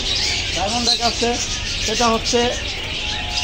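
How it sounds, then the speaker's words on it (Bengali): Pet birds at a bird shop keep chirping in short repeated bursts: cockatiels, doves and other cage birds. The calls sit over a constant background hiss and a murmur of people talking. "এখানে কোকাটেল আছে, কোকাটেল বিভিন্ন পাখি আছে"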